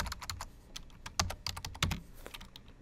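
Quick, steady keystrokes on a computer keyboard as a file name is typed, close and clear with uneven bursts of clicks and no talking.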